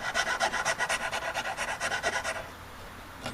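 A metal file rasps back and forth in quick, even strokes, close and moderately loud, about a dozen passes before stopping.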